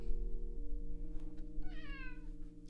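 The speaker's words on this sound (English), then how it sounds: "Meow." A cat meows several times with clear harmonic calls, close by, over steady low background hum in an indoor workspace.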